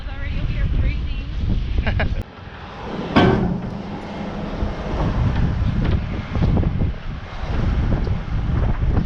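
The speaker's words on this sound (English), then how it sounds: "That wind, it's just that wind, the wind chill." Strong wind buffets the microphone out on the jetties, a steady loud rushing roar with gusts throughout and a brief dip in the middle.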